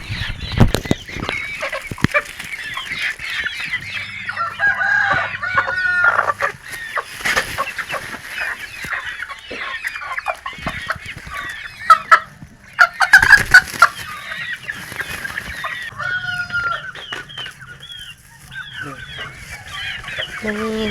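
Chickens cluck and squawk throughout, a busy flock close by with overlapping calls and occasional louder bursts, with faint rustling and knocks underneath.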